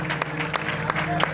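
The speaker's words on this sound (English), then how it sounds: "Clap hands for God." A congregation at a church service claps hands in a quick, fairly even rhythm, with the claps moderately loud against a steady background hum.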